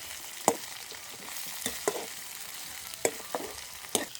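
Soft, steady sizzle of onions and chilies sautéing in a pan, with several sharp spoon scrapes and clinks at irregular intervals.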